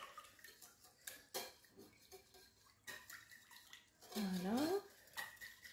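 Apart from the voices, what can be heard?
stirring spices in a mixing bowl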